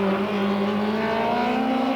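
A USAC midget race car accelerates hard on a qualifying lap at a 1997 Western States Midgets event, its engine note climbing steadily in a loud, sustained, near roar.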